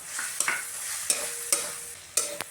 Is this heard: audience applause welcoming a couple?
no